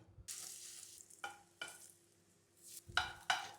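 Potato pancakes sizzle steadily in a hot pan, with a few stirring scrapes and clinks of a utensil breaking up the constant frying hiss.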